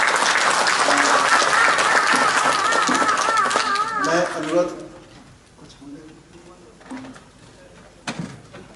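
A crowd at a Santali play applauds loudly for about four seconds after a performance, the clapping then fading as a voice takes over and speaks alone.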